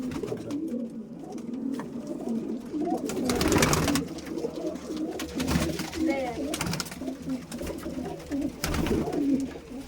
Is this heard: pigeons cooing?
yes